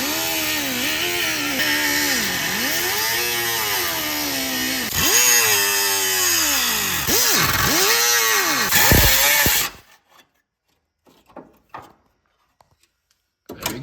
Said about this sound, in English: we can cut these frame rails out so we can make this whole space just a wide open area